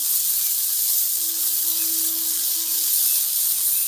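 Jhinge flowers and potatoes fry in a pan with a loud, steady bright hiss of hot oil, constant throughout and close by, with a faint thin tone briefly in the background.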